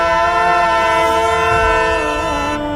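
A train horn blares loud and sustained, a rich harmonic blast held steadily from start to finish, very close.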